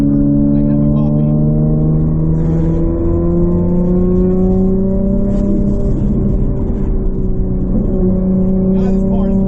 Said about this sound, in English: God, this car is loud.